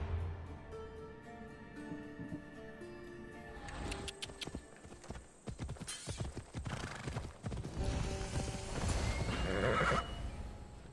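A horse in Assassin's Creed Odyssey clip-clops along with hoof beats, neighs and whinnies, mixed with game music and rising noise of fighting nearby. The horse sounds fairly close, and no one talks.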